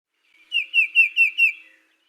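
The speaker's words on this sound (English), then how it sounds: "5 down-slurred whistles in a monotone series." Recorded bird call: five clear down-slurred whistles in an even monotone series, evenly spaced and close, alone against silence.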